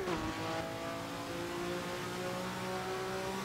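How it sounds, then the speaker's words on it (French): A Ferrari engine in the Assetto Corsa racing game revs steadily, a sustained, loud mechanical drone with layered harmonic whine that holds a fairly even pitch for several seconds, with no talking over it. "Elle est tellement plaisante à piloter, cette voiture. Et le son est tellement génial."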